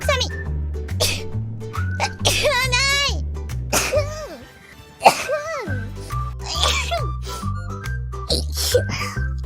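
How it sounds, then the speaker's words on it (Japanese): A single sharp sneeze bursts out partway through, close and loud, amid lively talking and background music with squeaky tones. "待って、くしゃみ。"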